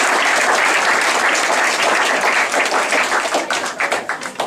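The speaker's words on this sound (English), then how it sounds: "we'll give them a round of applause" Sustained round of applause from a banquet crowd at a cross-country year-end gathering, dense clapping holding steady for several seconds before it begins to thin and break up near the end.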